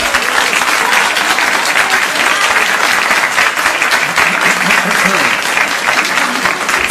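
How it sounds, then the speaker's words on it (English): Sustained applause from a large audience, dense steady clapping filling the whole stretch at a loud, even level. "save the applause till the end."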